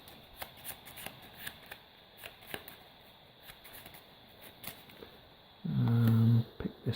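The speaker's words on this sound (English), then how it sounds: "draw out the insane cards for 1 player. There they are, there's 4 of them. There they are. And we'll shuffle these up." Mansions of Madness insanity cards being shuffled by hand, soft papery flicks and taps close by, ending in a brief louder riffle, with no talking.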